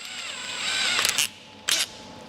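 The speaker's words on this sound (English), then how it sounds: "Take your drill, put it into the chuck" A power drill spins a length of wire clamped in its chuck while side trim is made for a classic car body, giving a steady whirring whine that swells, then two short louder bursts.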